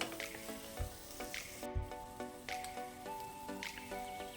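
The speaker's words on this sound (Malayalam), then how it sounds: "ഈ തക്കാളി ഒന്ന് വഴന്ന് കിട്ടി" Tomatoes soften in a hot pan for a lentil curry, giving a quiet, steady sizzle with a few soft stirring scrapes and light thumps.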